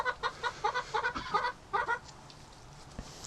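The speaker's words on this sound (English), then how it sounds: "Yes, ducks, you're hungry this morning, aren't you?" Hungry breeding ducks call on a spring morning, a series of loud, close quacks and honks in rapid bursts that trail off into a quieter pause near the end.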